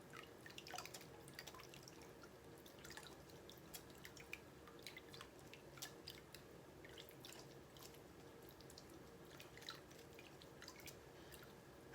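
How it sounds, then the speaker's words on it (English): Water dripping and trickling as wet pulp is squeezed out by hand, a faint, close stream of small irregular drips over a quiet background. "really want to squeeze out as much water as you can"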